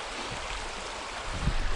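Stream at a Red River Gorge crossing, running high, flowing with a steady broadband rush that swells slightly with a low splash near the end.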